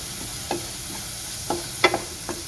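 Over a soft background sizzle, a spoon scrapes and clicks through macaroni with Maggi masala and spices in a pan, five or six distinct close strokes, one louder double knock among them.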